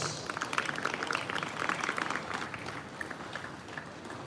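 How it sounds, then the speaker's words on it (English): A crowd at an INEC election gathering in Nigeria applauds to welcome the commission's chairman, with dense clapping that is strongest early and gradually thins and fades toward the end. "Let's welcome the honorable chairman, please, with a round of applause."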